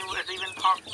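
Young Rhode Island Red chicks give a quick run of close, soft, clucking chirps.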